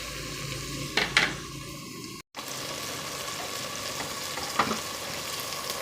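Tomatoes for fish-head sinigang sizzle and fry in a pan, a steady hiss broken by a few sharp scraping and mashing knocks from a utensil, with a brief dropout midway and no talk.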